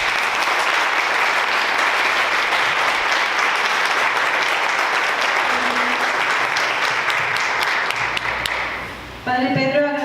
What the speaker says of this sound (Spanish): Le damos un fuerte aplauso al Padre